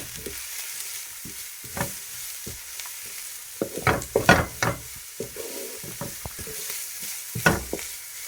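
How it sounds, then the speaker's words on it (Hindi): Shredded cabbage and capsicum are sautéed in a pan, with a soft, steady sizzle under repeated scraping and tossing strokes of a spatula that come in irregular clusters, loud and close. "बंद गोभी को और शिमला मिर्च को हम थोड़ा सा ही सौते करेंगे"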